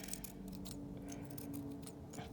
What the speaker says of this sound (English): I'm just going to trim around the edges of this just to get it so it's nice and neat